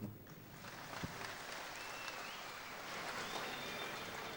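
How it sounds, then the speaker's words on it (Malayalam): An audience at an evening cultural program for Pinarayi Vijayan's 2016 election campaign claps in steady, sustained applause. It sounds fairly faint and distant, a continuous patter with no break. "ഈ കയ്യടി"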